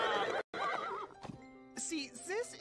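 A horse in the animated film Ferdinand gives a loud, close whinny, followed by a short pause, rising and falling snorts and a second neigh, with brief hoof clatter and no speech.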